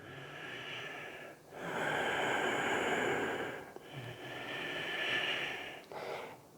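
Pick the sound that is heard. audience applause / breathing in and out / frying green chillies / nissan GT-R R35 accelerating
breathing in and out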